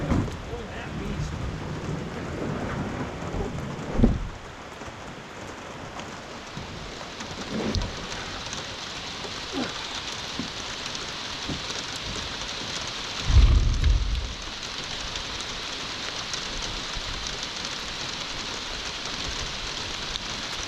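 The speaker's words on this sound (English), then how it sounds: "literally it started raining" Steady rain hisses on a surface at a creek boat regatta with wind buffeting the microphone, and a few low rumbles of thunder break through now and then.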